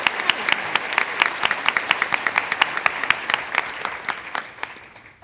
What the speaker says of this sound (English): Please give a round of applause for these hard-working members.